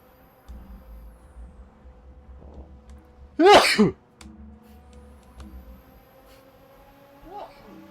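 A single sharp, loud sneeze bursts out mid-clip, standing well above a low rumble of engine-like background noise, with faint talk before and after.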